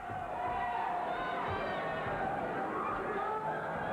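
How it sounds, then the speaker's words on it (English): A ringside crowd at a 1984 pro wrestling event roars nonstop, a loud sustained wall of cheering and shouting voices with whistles rising through it. "the crowd just going berserk here at ringside"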